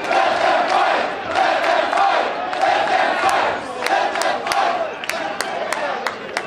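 A wrestling crowd at a Brian Cage vs Alexander Hammerstone match cheers and shouts continuously, a loud, dense roar that swells and dips, with sharp claps and bangs cutting through near the end.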